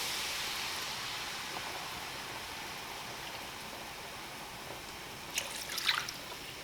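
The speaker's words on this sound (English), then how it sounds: "we're gonna go ahead and add about, say, 2 cups of whole milk" Whole milk pours into a roux in the pan as the base for a crab mac and cheese sauce, a soft steady trickle and hiss running throughout, with a few brighter splashy drips near the end.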